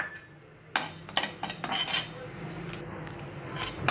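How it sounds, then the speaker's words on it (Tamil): Urad dal being dry roasted in a kadai pan for idli podi comes across as a string of light metallic clinks and scrapes of a spoon against the pan, irregular and close, over a quiet room. "இது வந்து இப்போ நம்ம கடாயில் போட்டு அதே மாதிரி சும்மா லேசாக நம்ம வறுத்து அதில் போட்டுக்கலாம்"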